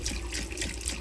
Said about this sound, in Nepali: अब चाहिँ पानी ल्याइदिनुपर्छ।